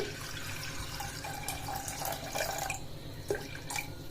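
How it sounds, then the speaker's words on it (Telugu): Water pours and splashes into a pot of washed urad dal, a soft continuous trickle with small drips and clinks, fairly quiet and close. "పప్పు మునిగే వరకు మనం నీళ్ళు వేసుకోవాలి"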